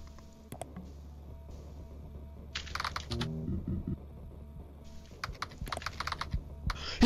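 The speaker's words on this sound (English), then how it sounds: "He's typing on my PC." Rapid keyboard typing inside the video game KinitoPET, in bursts of quick clicks and clacks separated by short pauses, over a low steady background hum.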